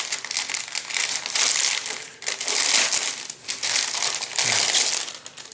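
Plastic bag holding plastic model kit sprues crinkling in bursts, close and fairly loud, with brief pauses between rustles.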